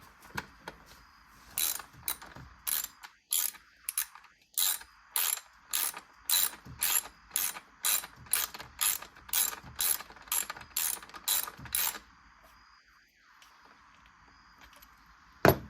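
A socket ratchet tightening the supplied H4 bolt on a Ford Fiesta ST blow-off valve install, with about twenty steady, evenly spaced clicking strokes, close and clear, then a brief pause and a final click.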